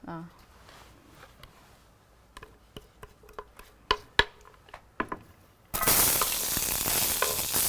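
Onions drop into a hot pan and burst into a loud, steady sizzle that fills the last couple of seconds, after a stretch of quiet clicks and utensil taps.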